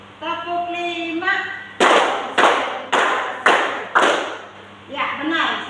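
Classroom pupils clap their hands five times in a steady, even rhythm, each clap loud and crisp, with talk just before and after the claps.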